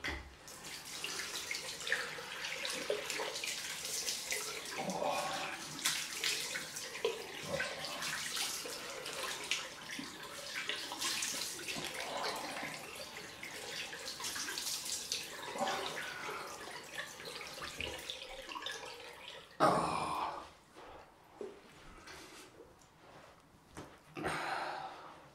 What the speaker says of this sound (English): Lovely ice cold water.